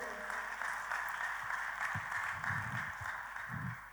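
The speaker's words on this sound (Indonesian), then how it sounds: "Kita kasih tepuk tangan saudaraku." Fairly faint applause from a congregation during a church sermon, a steady wash of clapping with a few low thumps and murmurs beneath.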